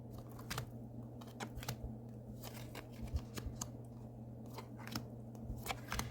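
Stiff tarot cards are shuffled in quick, crisp bursts of snapping riffles over a low steady hum, close and fairly quiet.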